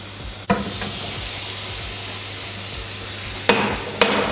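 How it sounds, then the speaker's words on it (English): Onions and garlic fry in a pan for a vegetarian samosa filling, a steady hiss punctuated by a few sharp knocks of a utensil against the pan. "So you're going to cook those onions and garlic for 2 minutes"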